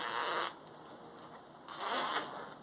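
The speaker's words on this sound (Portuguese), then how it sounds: "Vamos abrir. Abre o zíper." A zipper is pulled open on a sewn pillow cover with a hidden zipper, in a craft workshop: two rasping bursts of zipping separated by a quieter pause, close and alone.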